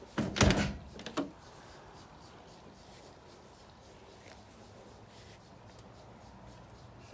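A heavy door on a 1967 Ford Ranch Wagon tailgate swings open with a couple of sharp close thunks and clicks in the first second, then fades to quiet room noise.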